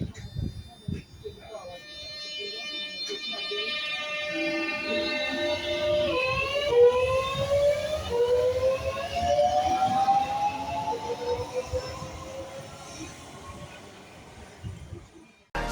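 A Class 465 electric train pulls away, its traction motors whining in steady tones that climb in pitch over about ten seconds, loud and close, with some talk and noise early on.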